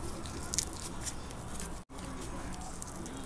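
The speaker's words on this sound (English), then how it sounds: "we're gonna peel our tomatillos" Tomatillos are peeled by hand, giving soft papery crinkles and squishy tearing close up, with a brief sharper crackle early and a short gap midway.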